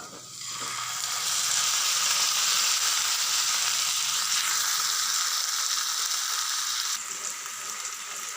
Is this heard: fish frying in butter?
yes